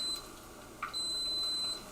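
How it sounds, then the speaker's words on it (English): Two high electronic beeps from a rice cooker, one short and one long and sustained, ring out over quiet background with a faint click between them. "That beeping is my rice."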